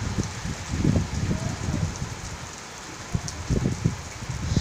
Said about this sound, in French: regardez comme il tombe les pluies